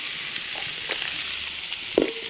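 Village-style tomato chutney sautéing in a pan, a steady close sizzle and crackle with light stirring scrapes and a brief louder clatter near the end, no voices.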